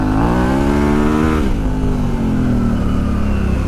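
A Yamaha Tenere 700 revs steadily as its rear wheel spins on slippery off-road ground, the engine note rising then dipping and holding, loud and close with no talking.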